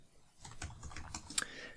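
Quick, faint keystrokes on a computer keyboard tap in a short irregular burst, close to the microphone in a quiet room.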